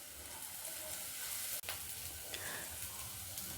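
Carrot and cabbage stir-frying with green chili for Mumbai-style Schezwan fried rice, a constant close sizzle with a brief sharp click midway and no talking.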